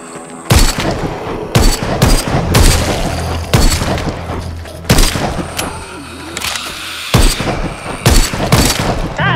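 Gunfire in the co-op VR zombie shooter game Arizona Sunshine: loud, sharp shots crack out repeatedly in irregular bursts, some in quick succession, with a busy background between them.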